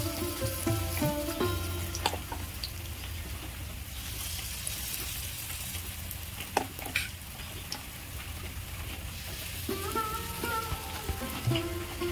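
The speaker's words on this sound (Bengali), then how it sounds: "এইভাবে অল্প আঁচে আমি ভেজে নেব, বেশি লাল করার কোনো দরকার নেই।" Semolina balls frying gently in oil on low heat, a soft steady crackle and sizzle, faint and close, with occasional clinks of utensils.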